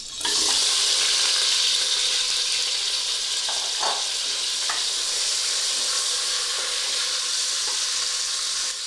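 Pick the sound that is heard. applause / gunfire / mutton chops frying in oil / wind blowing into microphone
mutton chops frying in oil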